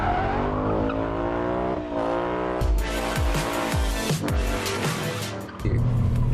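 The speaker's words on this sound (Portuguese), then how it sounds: "Uma manobra como essa, que a gente chega a quase 100 km por hora" A sports test car maneuvers hard at close to 100 km/h with stability controls switched off, engine roaring and revving while tires squeal loudly through the turn, close and intense.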